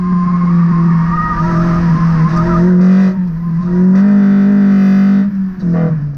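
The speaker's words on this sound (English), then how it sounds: "full VTEC around those corners, the back is coming out" A classic Mini fitted with a Honda VTEC engine howls loudly through hard cornering, a sustained high-revving engine note with tyre squeal layered over it as the rear steps out, briefly dipping before surging again.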